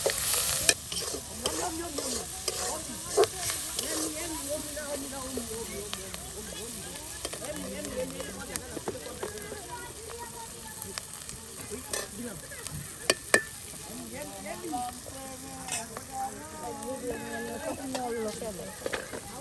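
Finely chopped onions tossed into a pan and stir-fried for an egg and bottle gourd dish, a steady close sizzle and hiss with constant scraping and clattering of a spatula, while a person talks over it.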